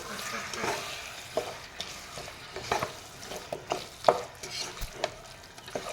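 Spices with ginger and garlic are stirred in a hot pan, a soft sizzle under repeated scraping and knocking strokes of a spoon in uneven rhythm; no talking.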